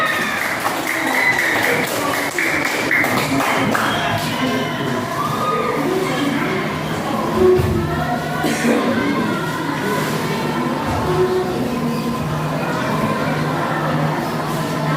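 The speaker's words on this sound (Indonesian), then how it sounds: "Kelompok tarawih silakan tepuk tangan untuk kelompok tarawih." Audience applause for a tarawih group at a classroom teaching practice session: steady, fairly loud clapping from a crowd lasting throughout, with murmuring voices and shuffling mixed in.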